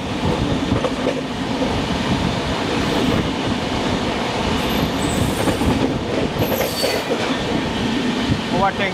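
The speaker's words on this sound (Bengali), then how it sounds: "মুম্বাই লোকাল ওভারটেক করছি আমরা" A Deccan Queen Express passenger train pulls past a Mumbai local train on the Pune to Mumbai line, with a steady loud rumble of wheels and carriages, clattering rail noise and brief high squeals over the constant roar.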